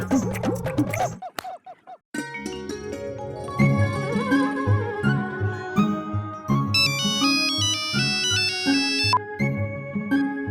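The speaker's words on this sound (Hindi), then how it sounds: "क्यों बार बार फोन कर रही हो कोयल?" A synthetic phone ringtone plays a bright, repeating electronic melody, loud and close, after a few brief sounds at the start.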